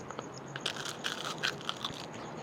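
Crunchy bites into a crisp grilled chicken drumstick, a few sharp crackling snaps over about two seconds, close to the ear.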